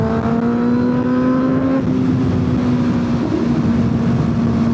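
A 2025 Kawasaki ZX-6R sport bike engine drones steadily while riding, pitch holding high then dropping with a brief blip during a rev-matched downshift, loud and close with no talking.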